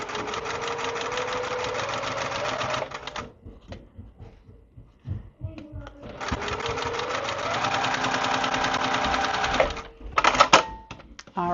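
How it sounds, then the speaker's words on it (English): A long-arm quilting sewing machine bastes slowly with long stitches, running in two sustained stretches of steady whirring hum separated by a quieter pause with faint clicks and handling noise. "when I'm basting on the long arm and I'm going really slow"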